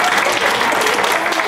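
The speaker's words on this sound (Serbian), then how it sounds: "Jedan veliki aplauz za vas" Warm applause for children at a closing exhibition of kids' artwork from a 2018 festival, a thick continuous wash of clapping from a crowd filling the moment.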